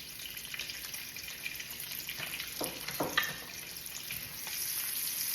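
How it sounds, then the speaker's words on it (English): Shredded green cabbage and pepperoni cook in a pan, a quiet, soft bubbling sizzle with scattered small pops and crackles heard close up. "we're just going to sort of let it bubble up and cook"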